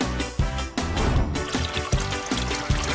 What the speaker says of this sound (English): Don't forget to water them.